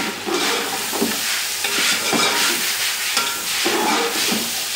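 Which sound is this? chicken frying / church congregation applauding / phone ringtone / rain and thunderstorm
chicken frying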